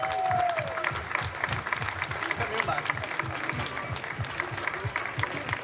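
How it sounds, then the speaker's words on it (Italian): An outdoor audience at a wind band concert in a town square applauds their band president, steady clapping with a voice talking over it and a brief tonal sound at the start. "Quindi un grande applauso al nostro presidente Antonella."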